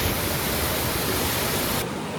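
Water flows steadily in Kanneliya forest in Sri Lanka, a loud, dense and unbroken rush that fills the whole stretch before the hiss suddenly thins near the end.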